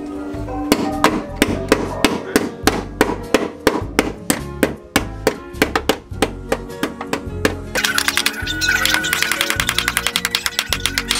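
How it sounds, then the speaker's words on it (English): Metal hammer striking hard and repeatedly on a Subaru FRS camber job, a steady rhythm of loud ringing blows that speeds into a rapid, brighter clatter toward the end. "Bit more hammering."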